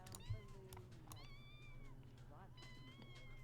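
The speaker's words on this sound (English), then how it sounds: "I forgot, wait, we have a kitten." Kitten meowing in The Sims 2, a few short high game meows over steady background music and game sounds, with no talk over them.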